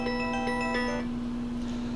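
An incoming-call ringtone on a trucker's phone chimes in a quick repeating electronic melody for about a second, over a constant low engine hum in the truck cab.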